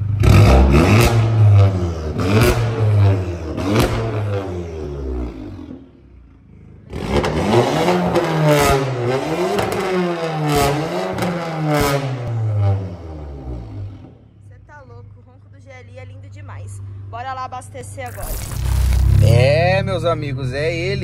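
A Jetta GLI with an installed downpipe and a straight-through exhaust with no muffler revs hard in repeated loud bursts, engine pitch sweeping up and down between rumbling idle gaps, with people talking over it.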